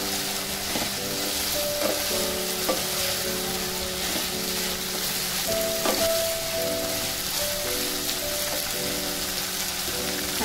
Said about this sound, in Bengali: 250 গ্রাম করলা দিয়ে দিলাম।